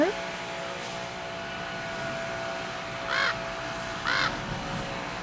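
Ravens give two short, harsh caws a second apart over a steady background hum, moderately loud and without talk.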